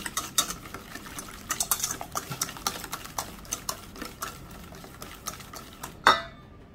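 A spoon stirs sugar into banana cake batter in a bowl, giving a steady run of quick scraping clinks against the side, close and fairly loud, ending on one sharper knock.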